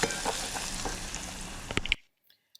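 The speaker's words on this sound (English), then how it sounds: "when I'm sauteing this one, and I'll also be sauteing this and also be putting ginger" Onions and ginger sauteing in oil for beef pilau, a close, steady crackling sizzle with stirring scrapes that cuts off abruptly, leaving near silence with a couple of faint ticks.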